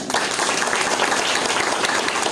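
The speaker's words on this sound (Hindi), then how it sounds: "ताली बजाइए।" An audience breaks into dense, steady applause at a spoken discourse, many hands clapping loudly and evenly throughout, with no voices.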